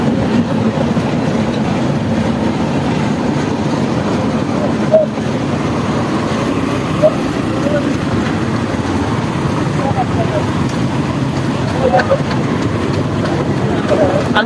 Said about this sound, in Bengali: একটা ট্রেন আসছে, আপনারা দেখতে পাচ্ছেন।